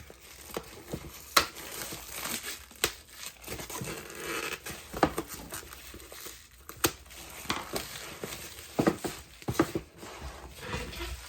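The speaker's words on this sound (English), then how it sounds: "Let me get the cellophane off of this." Cellophane wrapping comes off a 1/25 scale Z28 model car kit box, a close run of uneven crinkles, tears and rustles with sharp bursts scattered across the stretch, no talking.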